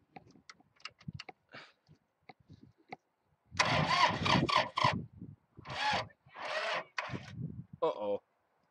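A tractor engine with a weak battery cranks and sputters in several rough bursts, trying to start, after some quiet talking.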